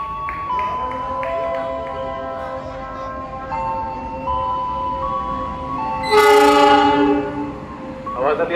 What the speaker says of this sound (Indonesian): Awas hati-hati jalur 2 dari arah barat kereta api melintas langsung